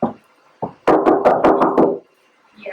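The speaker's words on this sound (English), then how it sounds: "Almost like knocking on a house door as opposed to a car door." A VW Baja Bug's padded door panel is knocked on by hand, with a rapid run of about six firm, dull knocks in a burst, close and loud, preceded by a single tap and with brief voices around it.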